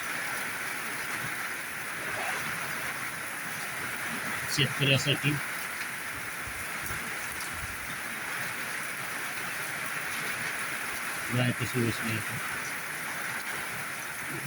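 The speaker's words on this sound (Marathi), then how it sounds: "अतिशय उत्तम पाऊस" Steady rain hisses throughout, a constant wash of falling water with two brief bursts of speech partway through.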